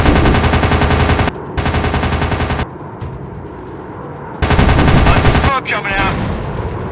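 Rapid machine-gun bursts and rocket fire from a WW2 warplane dogfight mobile game, loud and dense in two long volleys with a short lull between, while a radio-style voice speaks briefly.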